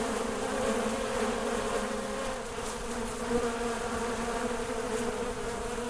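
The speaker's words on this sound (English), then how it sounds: "Got mosquitoes." Steady, dense insect buzzing of mosquitoes in the survival video game Starsand, a continuous whining drone that holds at an even, fairly loud level throughout with no talk.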